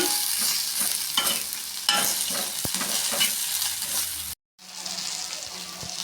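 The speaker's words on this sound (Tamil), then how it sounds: "வாழைக்காவை இப்படி தனித்தனியாக போட்டுக்கலாம்" Raw banana slices frying in hot oil, a loud continuous sizzle with scraping and clinks as pieces are dropped in and moved, one brief silence before the bubbling resumes.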